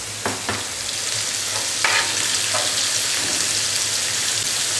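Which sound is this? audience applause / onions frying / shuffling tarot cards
onions frying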